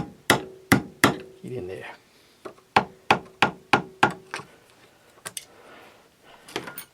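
A rusty, stuck Tecumseh 33290E starter bendix is struck with a hammer in a series of sharp metallic blows, roughly a dozen in irregular bursts, close and loud, with a brief spoken line among them.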